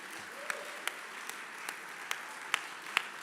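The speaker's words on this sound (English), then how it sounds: "Please give them a round of applause." Steady applause from a crowd at an ordination and graduation ceremony fills the space, with a few sharper individual claps popping out at regular intervals.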